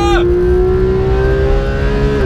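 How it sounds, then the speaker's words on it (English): A Porsche 991 GT sports car engine holds a high, steady whine as it revs toward 8,500 RPM at Yas Marina circuit, loud and close, with a quick pitch drop at the start. "Oh man, listen to that engine."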